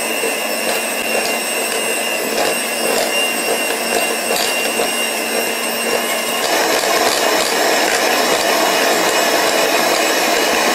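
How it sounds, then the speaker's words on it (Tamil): Electric hand mixer beating butter with country sugar for cookie dough, a continuous close whirring buzz that holds steady throughout and shifts slightly in tone partway through. "இதை சேர்த்துட்டு நல்லா ஒரு தடவை ஒரு 2 மினிட்ஸ் நல்லா பீட் பண்ணிடலாம்."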